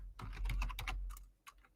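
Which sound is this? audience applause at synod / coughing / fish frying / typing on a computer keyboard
typing on a computer keyboard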